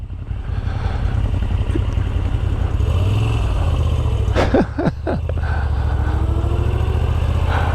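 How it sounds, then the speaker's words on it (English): A Moto Guzzi V7 air-cooled pushrod V-twin motorcycle engine idles with a steady low throb, close up, briefly interrupted midway by a few sharp clattering knocks. "A Moto Guzzi V7 air-cooled rock and roll V-twin, old style pushrod engine."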